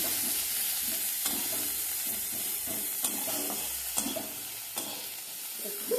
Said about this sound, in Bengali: পেঁয়াজটা আমি নাড়ছি